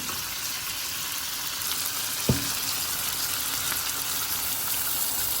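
Winter vegetables sizzle steadily as they are sautéed for a fish curry in a pan, a continuous loud hiss broken once by a sharp knock of a utensil against the pan.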